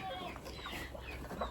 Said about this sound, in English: We're going into the chicken coop here.